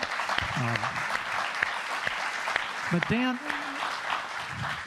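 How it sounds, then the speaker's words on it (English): Audience applause at a Harvard Kennedy School event welcoming a guest journalist, steady clapping throughout with a voice speaking over it. "You could give him a warm applause and welcome for Harvard."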